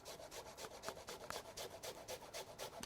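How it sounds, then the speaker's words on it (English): Horseradish root scraped against a grater in quick, even back-and-forth strokes, a soft rhythmic rasping at close range with no voices. "Next thing we're going to do is going to grate some horseradish."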